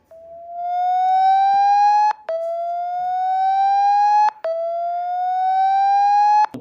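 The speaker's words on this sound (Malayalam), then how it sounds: "ഓൺ ചെയ്യുമ്പോൾ നിങ്ങൾക്ക് കാണാൻ സാധിക്കും വലിയ ശബ്ദത്തിലാണ് ഒരു സൈറൺ മുഴങ്ങുന്നത് കേൾക്കാൻ സാധിക്കും." A phone speaker-cleaning setting plays a loud siren tone through the handset speaker, three rising wails in a row, each climbing then cutting off abruptly, close and alone.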